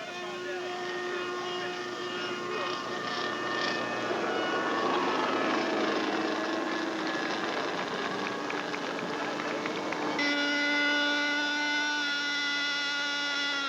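A propeller aircraft at an unlimited air race airshow drones steadily overhead with a tonal engine hum that shifts in pitch partway through, loud and continuous, with a voice speaking over it.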